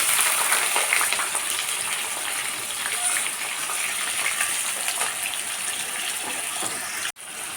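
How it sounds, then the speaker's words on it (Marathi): Onion sautéing in a pan gives a constant bright, hissing sizzle that holds steady throughout and cuts off abruptly near the end, with no speech. "कांदा छान परतून घेऊया बा ब्राऊन कलर येईपर्यंत"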